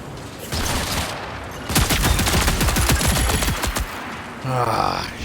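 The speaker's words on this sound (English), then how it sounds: "I can already hear gunshots." Gunfire in the video game Marathon, loud bursts of rapid automatic shots close by, a long rattling fusillade with brief pauses between, ending in a softer, rumbling tail.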